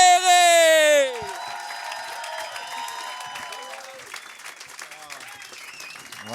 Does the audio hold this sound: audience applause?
yes